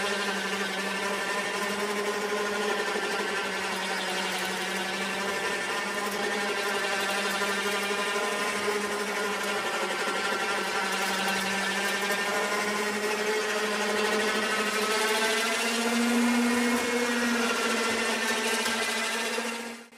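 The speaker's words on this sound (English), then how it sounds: "Continue until the golf cart is pulled next to the winch stand." A portable truck bed winch hauling a golf cart up onto the bed, a steady loud electric motor whine droning continuously for the whole stretch, rising slightly in pitch near the end before cutting off.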